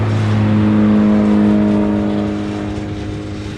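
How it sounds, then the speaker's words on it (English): Hawaiian Airlines A321 taxiing out toward the reef runway at night, a loud steady jet engine whine and rumble that fades slightly toward the end. "It's our first Hawaiian 321 of the night. Just heading out to the reef runway right now."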